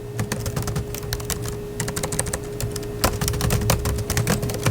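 Rapid, continuous tapping on a Litbook 15A budget laptop's light, slightly toy-like keyboard, close and clear, with keys clicking in an uneven, busy rhythm and no voices.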